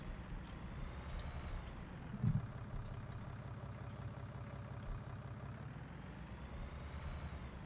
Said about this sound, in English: This tractor really doesn't have a great turn radius either